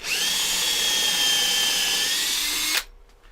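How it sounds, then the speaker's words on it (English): A power drill fitted with a 7mm bit bores into a workpiece for a screw chuck, a loud steady high whine held for nearly three seconds before stopping abruptly, close and alone. "drill it with a 7mm drill bit"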